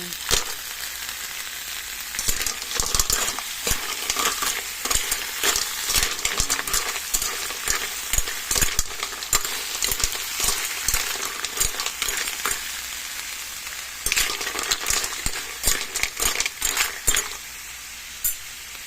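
Coconut-milk stew with mussels bubbles in a pan, giving a dense, constant crackle of popping bubbles and light sizzling up close, with no speech.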